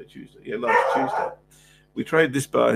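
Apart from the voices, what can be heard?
dog barking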